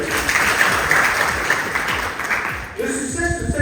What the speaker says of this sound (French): un collaborateur extraordinaire que je vous demande d'applaudir.